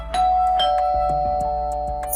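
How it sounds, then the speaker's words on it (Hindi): A bright doorbell chime rings out once and lingers, followed by fainter tones and clicks, with no voices. "अरे घंटी बजी है, लगता है कोई आया है,"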